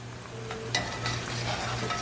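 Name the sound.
vegetarian banh mi filling frying in a pan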